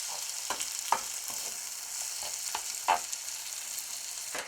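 Diced medium tomato heating through in a saucepan gives a steady soft sizzle, with a few louder stirring scrapes at irregular moments, close and alone without voices.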